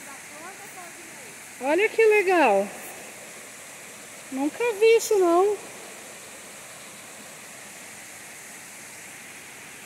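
Spring water from a mine pours steadily into a natural pool in Bananal, São Paulo, a constant rushing wash that runs through the whole clip while people talk over it in two short bursts.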